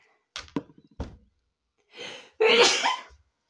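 A few short throat sounds and a breath, then one loud, explosive sneeze close by, with a faint thud after.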